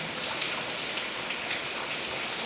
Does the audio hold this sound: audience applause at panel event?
no